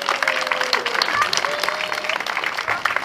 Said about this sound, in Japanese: 最初にもう一回キドピーちゃんに拍手